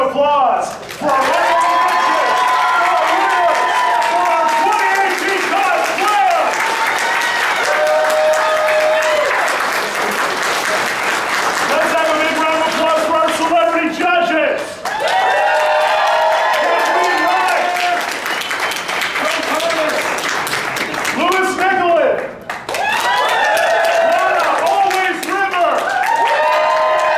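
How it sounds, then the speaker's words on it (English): A crowd at a costume contest awards ceremony applauds and cheers loudly and without a break, with shouts and whoops over dense clapping throughout. "let's have a big round of applause for our"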